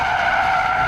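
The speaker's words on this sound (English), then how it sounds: "can you hear the tires squealing like that?" Tires on a rear-wheel-drive 2014 sports sedan squeal loudly and continuously as the car understeers through hard cornering, a sustained close-up screech with no talk over it.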